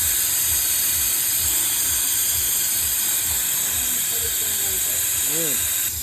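A coolant air bleeder tool hissing loudly and steadily as it draws air out of a vehicle cooling system, a constant close rush of air with a rhythmic low pulsing underneath.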